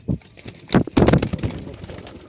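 Pigeons in a breeding pair with young, heard as a few short, close bursts of low cooing and rustling, with faint background noise.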